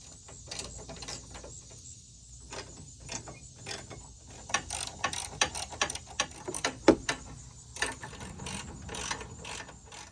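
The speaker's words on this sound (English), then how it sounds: "we'll go ahead and go back and shore up all of these bumper bolts here" Ratchet wrench clicking as bumper bolts are tightened during a hitch receiver installation, with repeated bursts of rapid close pawl clicks that get louder and more frequent toward the end, with no talking.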